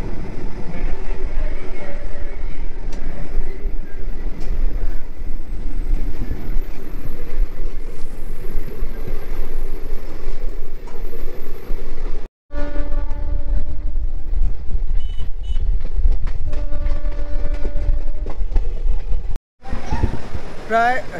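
A special train pulls into Bhubaneswar station running hours late, its steady rumble and rolling wagon noise loud and close throughout, with tonal horn-like notes in the second half and brief drops in sound.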